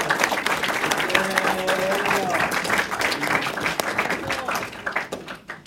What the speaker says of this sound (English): So let's give our introducer of the speaker a big round of applause.